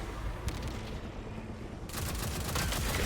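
Weapon fire in Destiny 2, a few sharp gunshot bursts mixed with heavier booms over a busy game background, loud and close.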